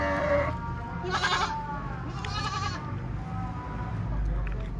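A goat bleats on a rooftop, two or three short, wavering calls over a constant noisy background, with people talking nearby.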